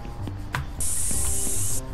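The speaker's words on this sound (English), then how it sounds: "Can I spray paint these people's cars?" Spray paint can in the Bad Kid In School Simulator video game gives one loud, steady hiss lasting about a second, set among soft game background noises and light clicks before and after.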